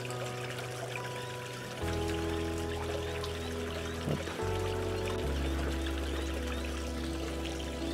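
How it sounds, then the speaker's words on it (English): Water is poured and stirred into a bucket in a backyard aquaponics setup for silver perch, a continuous splashing, trickling wash over steady tonal background hum, with no voices. "I add a bit more water into the bucket."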